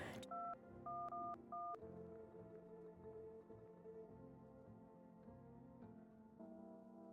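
Phone keypad dialing in a video game: several clear DTMF tones in quick succession, some doubled, over a steady background music bed, with no talk.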